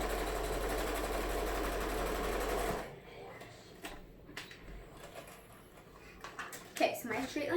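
A home sewing machine stitches a straight line on a homemade fabric mask, a loud steady whirring hum for nearly three seconds, then stops, leaving faint handling noises and a soft voice.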